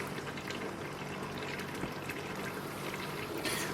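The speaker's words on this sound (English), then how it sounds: "So here you can see me adding the second thing of cream." Cream pours into a pot of New England clam chowder, a faint, steady liquid trickle and splash running quietly and continuously for a few seconds.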